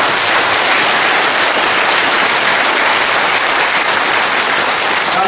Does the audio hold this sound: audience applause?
yes